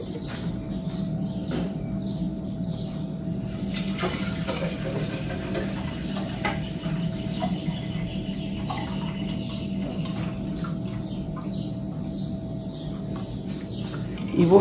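Tap water runs steadily from a faucet into a coffee maker's water container for a long stretch, a constant splashing hiss, with faint bird chirps in the background and no talking.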